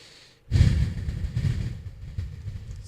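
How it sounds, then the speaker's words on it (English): Heavy breathing close into a microphone during a sports talk show: a loud rushing exhale breaks a near-silent pause, then ragged breaths continue, rising and falling in waves. "Stop breathing into the microphone like that, dude."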